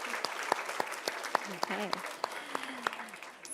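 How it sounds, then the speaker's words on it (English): Audience applause after a reading at a live author event, a light, scattered patter of clapping hands in a room, with a voice speaking briefly over it. "Can we give Sister Ibtihaj a round of applause for reading?"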